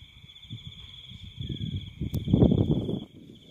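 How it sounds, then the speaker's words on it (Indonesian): Steady high-pitched cricket chirping at night in a garden after rain continues in the background while nearby rustling and handling noises grow louder, then fade. "teman-teman dengar suara jangkrik kan ya tuh di sini sudah malam"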